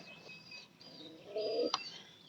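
A pigeon in its coop gives a short, low cooing call partway through, fairly faint over quiet room background.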